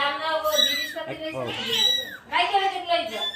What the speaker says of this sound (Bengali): অনেক কিউট কিউট বিলাই